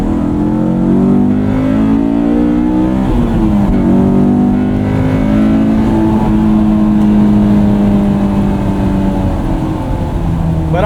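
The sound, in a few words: 2001 Honda S2000 engine revving while driving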